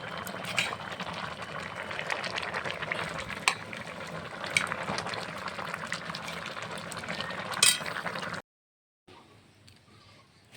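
Cooked masoor dal with pumpkin shoots is poured from a wok into a bowl: a steady, soft, wet rushing pour up close that stops abruptly, followed by a brief near-silence.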